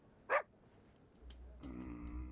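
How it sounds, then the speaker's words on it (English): In the game Reverse 1999, a dog gives a single short, excited bark, followed by a faint blip and then a low, sustained game music or ambient drone that swells in underneath. "Hearing Wendy's excited barking, lots of puppies start to gather."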